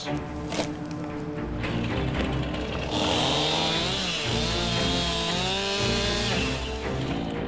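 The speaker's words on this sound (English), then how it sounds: "You need a chainsaw? I do. All right. But a quick cut" A chainsaw buzzes steadily, its engine pitch rising and wavering as it bites into a log, loud and close with no talking.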